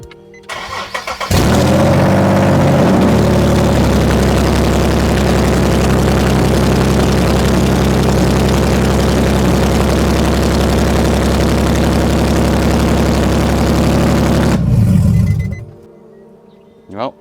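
An Infiniti G37 with open headers fires up for the first time after a manual transmission swap and settles into a loud, rough, steady idle that runs evenly for about thirteen seconds before being cut off.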